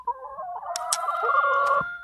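Chickens, part of a collection of hen breeds, cluck and call close by, a rising crow-like cry overlapping several sharp clucks for about two seconds, with no talking.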